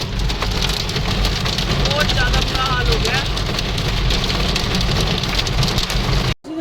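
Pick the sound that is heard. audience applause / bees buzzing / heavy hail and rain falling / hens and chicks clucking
heavy hail and rain falling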